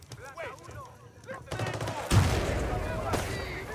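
Gunfire cracks in a Battlefield 6 multiplayer match, a shotgun among the weapons, as a loud heavy blast lands after a stretch of talk and noisy battle sounds carry on behind it.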